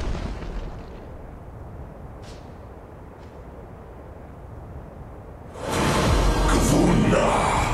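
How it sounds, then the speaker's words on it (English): Tower destroyed by an explosion in a multiplayer battle arena game, a loud rumbling blast bursts in near the end after quieter game ambience, sustaining a broad roaring crash. "Your tower has been destroyed!"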